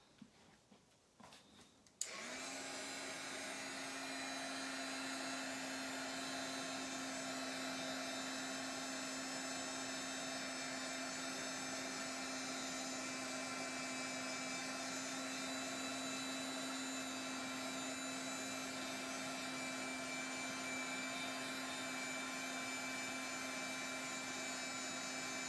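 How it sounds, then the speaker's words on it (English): A heat tool drying mixed media paint on a jumbo playing card switches on after a brief clatter, then blows with a loud, steady whir and whine that holds unchanged for over twenty seconds. "I'm just going to dry that."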